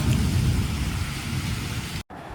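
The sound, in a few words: heavy rain with thunder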